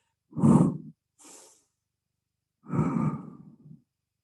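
Two soft exhaled breaths during a gentle floor exercise, the first with a short trailing puff, then a pause before a longer, slightly rough exhale, close and quiet with no speech.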